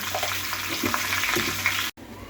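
Green mango pieces sizzle and fry with turmeric and salt in a hot pan, a steady crackling broken by a brief dropout near the end, with no talking.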